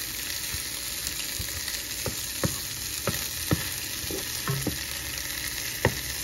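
Garlic fries in a pot for an oxtail stew, giving a steady hiss with a clatter of stirring strokes spaced through it, close and moderately loud with no voices.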